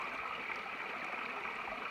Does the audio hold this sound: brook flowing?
yes